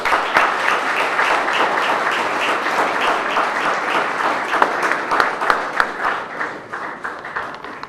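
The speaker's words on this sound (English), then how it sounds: "Let's give Brother Wright another round of applause" Audience applause at a book signing event, a steady wash of many hands clapping for several seconds, dense and close, then gradually thinning toward the end.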